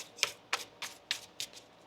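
Tarot cards being shuffled by hand: five crisp, papery riffles at a fairly even pace, close and clear, with no voices.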